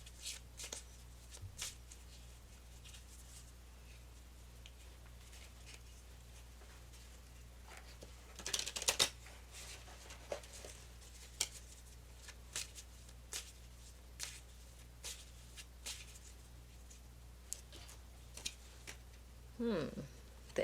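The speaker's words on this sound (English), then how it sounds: "Let's do these cards. We'll do our herb deck." A deck of herb oracle cards is shuffled by hand in a quiet room, giving soft repeated riffling and tapping with a louder shuffle burst in the middle.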